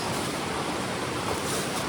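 Rushing water of the Big Branch River in the Vermont wilderness, a steady broadband roar that stays even and close throughout, with no voices.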